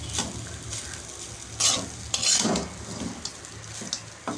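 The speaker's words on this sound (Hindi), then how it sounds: "इसमें फ्राई किया हुआ मूंगफली मिक्स कर देंगे" Fried peanuts are stirred into Andhra-style lemon rice in a pan, making close scraping and shuffling bursts of a spatula against metal over a low sizzle, with light clinks and no voices.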